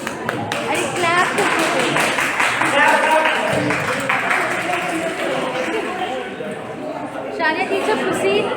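Clapping from a training-session audience at a school rises and falls with steady chatter and voices mixed in, several people talking over the applause at moderate volume.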